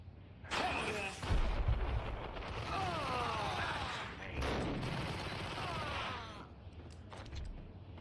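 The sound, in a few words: gunfire from the video game Max Payne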